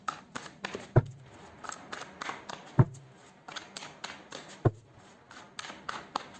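Tarot cards pulled from a deck and handled close by, with soft papery shuffles, slides and light taps, plus a few sharper knocks in an uneven rhythm, quiet and without talking.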